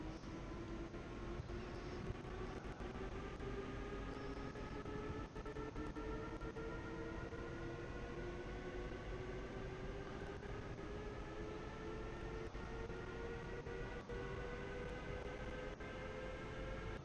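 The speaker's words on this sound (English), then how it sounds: "There's another train." A passing train in the Train Sim World Rapid Transit simulator gives a steady, loud rumbling drone with rising and falling whine tones for the whole stretch, with no talk over it.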